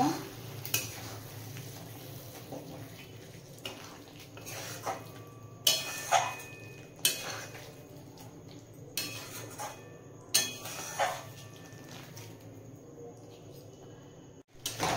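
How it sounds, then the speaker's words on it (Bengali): A spoon scrapes and clinks against a pan as butter is stirred into chicken bharta, with repeated sharp knocks spaced every second or two over a low sizzle and faint background voices. "এরপর এক টুকরো বাটার নিয়েছি, দিয়ে দেব এর মধ্যে। ভালো করে মিশিয়ে নেব।"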